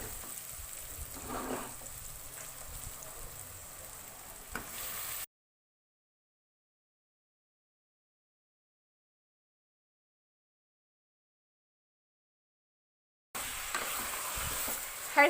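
Mutton with sorrel leaves and garlic paste frying on a high flame for Hyderabadi gongura mutton, giving a steady close sizzle with stirring scrapes, broken by a long silent gap in the middle before the frying returns.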